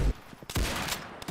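Gunshots in the Roblox Arsenal video game come as several quick, sharp bursts in close succession, loud and near, with no talk over them.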